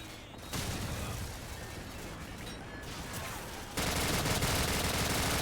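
Sustained gunfire from a Modern Warfare campaign mission, a dense, loud run of automatic shots and blasts that grows heavier partway through, with no talk over it.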